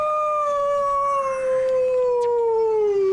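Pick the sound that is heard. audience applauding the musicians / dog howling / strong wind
dog howling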